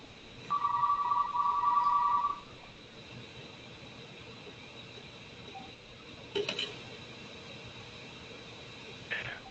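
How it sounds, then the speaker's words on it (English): A telephone rings in a quiet room, one clear electronic tone lasting about two seconds before cutting off, followed by faint background hiss and a couple of brief fainter blips. "Does somebody have a phone ringing?"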